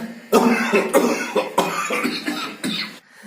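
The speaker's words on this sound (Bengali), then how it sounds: "তোমার তো কাশি হচ্ছে কেন?" A person coughs repeatedly at close range, several harsh bursts in an uneven rhythm with brief pauses between them.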